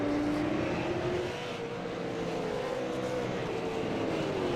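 Super Late Model race cars in an APC eSeries sim-racing game roll off and accelerate together on an oval track, a continuous layered engine drone with pitch slowly shifting, no talk.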